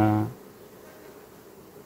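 Honeybees crawl over a brood frame of larvae during a varroa mite check, giving a soft, close buzz that is strongest in a short burst at the start and then fades to a faint hum.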